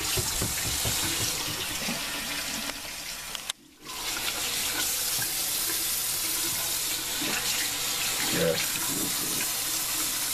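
Hot water pours from a tap in a steady, close rush, broken by a brief pause before it resumes.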